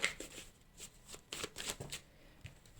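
Playing cards being shuffled during a tarot-style reading, a quiet run of crisp riffling bursts and soft slaps close by, with a couple of cards flicking out.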